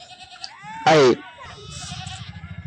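Sheep and goats of a shepherd's flock on the outskirts of Mumbai, with one loud close bleat rising over someone speaking and further animal calls under the talk.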